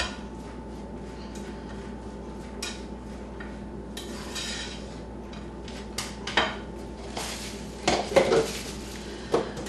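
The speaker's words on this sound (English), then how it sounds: "Kind of swish it around so it gets a little bit of the olive oil coating it." Vegetables with olive oil being swished around in a pan give steady clattering of pots and utensils, with scraping and sharper knocks growing louder toward the end, no talking.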